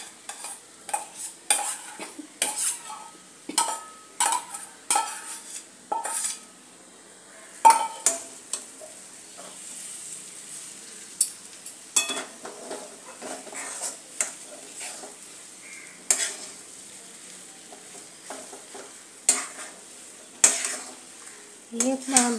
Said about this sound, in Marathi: आता हे बटाटे आपण यामध्ये घालून घेऊ। चांगले परतून घेऊया